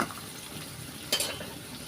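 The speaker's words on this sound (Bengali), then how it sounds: "পেঁয়াজটা হালকা মানে একটু লাল লাল করে ভেজে নেব।" Onions fry for a liver curry with a steady close sizzle in the pan, and a brief scrape of stirring cuts in partway through.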